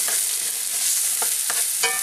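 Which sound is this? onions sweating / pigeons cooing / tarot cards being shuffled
onions sweating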